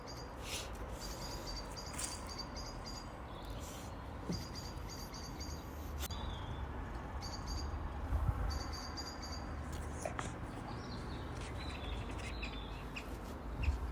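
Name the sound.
birds chirping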